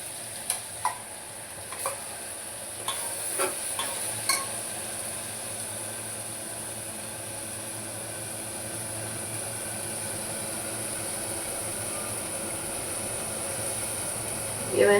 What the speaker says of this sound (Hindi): इसमें बघार में अपन थोड़ा सा जीरा डालेंगे और इसको ये पूरा ग्रेवी इसमें डाल देंगे।